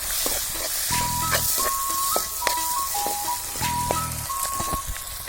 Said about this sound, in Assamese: এইটো অকণ ভাজি লওক